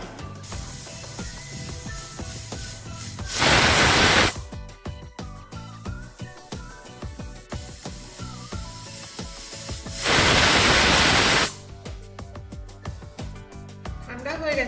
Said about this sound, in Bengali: দিয়ে প্রেসার কুকারটা বন্ধ করে 2টো সিটি দিয়ে নেব।